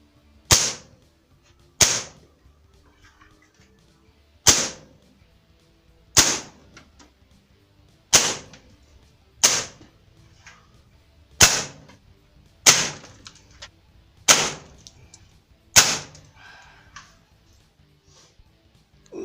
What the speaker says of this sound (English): First up are the Beeman coated pellets out of the Umarex Synergist